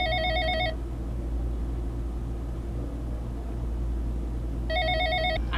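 A telephone rings at the central call centre for the 192 emergency number. Two bursts of electronic ringing play at the start and end over a steady low rumble.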